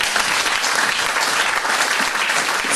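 A church congregation at a worship service applauds and acclaims the Lord, with loud, dense clapping that holds steady and close throughout without a break.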